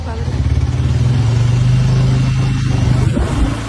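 Motorbike riding slowly along a local village road, with a steady mid-pitched engine drone running continuously at close range throughout and slight throttle swells.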